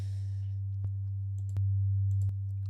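A sine wave synth built on a harmonic series, lightly filtered, holds a smooth steady low tone that swells louder midway, with a few sharp clicks cutting through.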